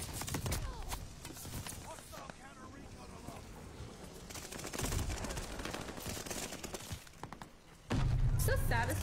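Rapid gunfire with headshots in a ranked online shooter, including a suppressed weapon, sounds as sharp clustered cracks and bursts, some loud and close, heard under and between a player's ongoing talk.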